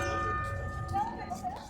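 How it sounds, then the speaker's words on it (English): The bell of the cathedral clock in Arequipa, Peru, an English-made clock, rings with a sustained metallic tone that lingers at moderate distance, while a faint voice is heard in the background. "You heard the bell ring for the clock."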